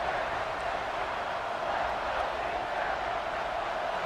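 Football crowd swelling with a steady, broad roar of cheering that holds at a constant level throughout, with no distinct voices standing out.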